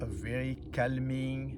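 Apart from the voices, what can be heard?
No distinct noise like a dog, phone or traffic.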